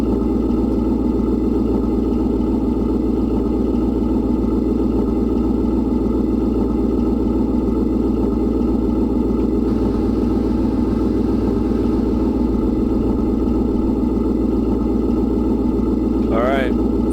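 A rough, unhealthy-sounding car engine in the Car Mechanic Simulator game runs as a loud, steady rumble throughout, with a brief high sweep near the end.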